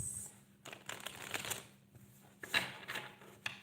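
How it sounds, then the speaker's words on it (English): Tarot cards shuffled during a live reading, giving soft, papery riffles and slides in short uneven bursts, fairly close and quiet, with no talk. "I'm shuffling the cards"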